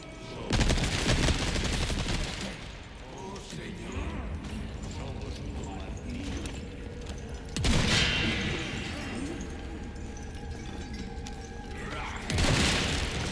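Gunfire and impacts in Resident Evil 4 Remake during a fortress battle, with loud bursts of shots and booms near the start, middle and end over a rumbling game soundscape.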